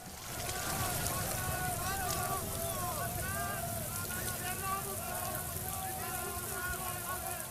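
Steady rain hisses down continuously, fairly faint, during a scene of a burning temple, with indistinct voices mixed underneath.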